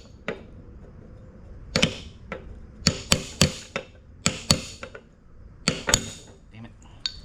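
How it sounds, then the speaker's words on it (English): Sharp metallic hammer blows drive sickle bolts in with a dedicated tool during a White Kwik Kut to Crary Gold N Cut sickle conversion, about a dozen close, ringing strikes in irregular clusters. "There's actually a tool made for driving these sickle bolts in."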